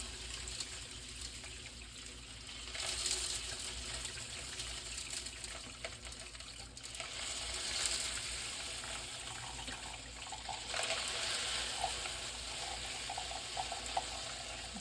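Water runs and trickles steadily out of the salt compartment of a new Arçelik HomeWhiz 6455 WF dishwasher as it is filled until it overflows, a continuous close gush with slight surges.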